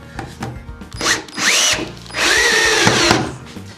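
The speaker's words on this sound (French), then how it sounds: "Mais il suffit que je visse cette vis." Power drill driving a screw into billiard table slate in several bursts, the motor whining up and down in pitch with ratcheting clicks, loud and close, with short pauses between runs.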